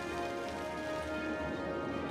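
Steady rain pours down on a city in Cities: Skylines, a continuous dense hiss of drops running evenly through the whole stretch with no break.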